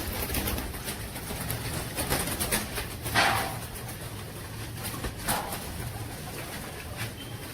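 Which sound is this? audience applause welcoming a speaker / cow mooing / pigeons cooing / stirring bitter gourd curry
pigeons cooing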